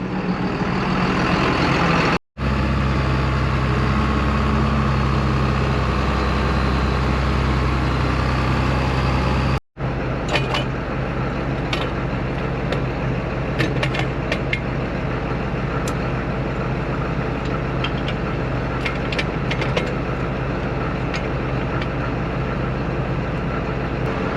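A farm tractor idles beside a barn, giving a steady, loud, close diesel rumble that runs throughout with two brief dropouts and no talk.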